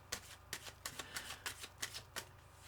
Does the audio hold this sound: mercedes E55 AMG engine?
no